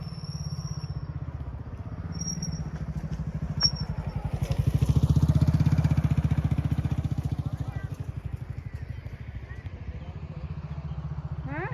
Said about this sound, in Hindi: मेरे पीछे से मोटरसाइकिल आ रही है।